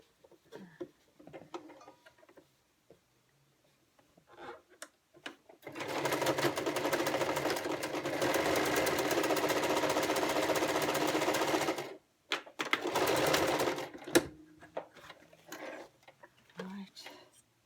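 Sewing machine stitching a cotton face mask very close to the edge, running in one long steady burst of about six seconds followed by a shorter run. A voice talks before and after the stitching.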